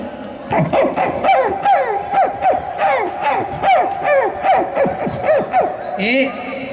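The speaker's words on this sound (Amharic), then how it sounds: "በመቀጠል ማሰማችሁ የድሃ ውሻ ነው ማሰማችሁ። ውሻው ሲቆጣ" A dog barks, growls and whimpers in a rapid, repeated series of yelping calls, fairly close and steady throughout.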